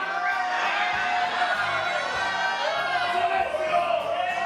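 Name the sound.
lucha libre fans cheering and booing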